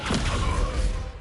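A heavy thud from a video game as the Descendo spell slams an enemy to the ground, a loud, dense burst filling the short moment.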